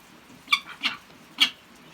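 A domestic cat meows three times in about two seconds, short high calls spaced apart, close and fairly clear over a quiet background.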